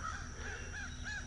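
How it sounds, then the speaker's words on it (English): Several crows caw outdoors, three or four harsh calls in quick succession, faint and somewhat distant over a low background hum. "Oh, a bunch of crows."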